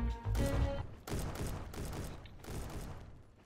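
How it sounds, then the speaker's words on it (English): Rapid gunfire in a Roblox shooter game comes in three loud clustered bursts separated by brief pauses. "this dude right here just shooting at nothing"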